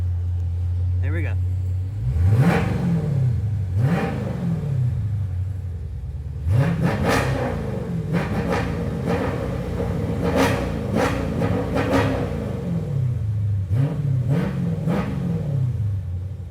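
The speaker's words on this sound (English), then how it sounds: "Let me get in and see if I can floor it a few times for you." A 2018 Dodge Daytona with the 392 engine and its exhaust valves fully open revs hard several times in quick succession, each rise and fall of the V8 growl loud and close over a steady idle rumble.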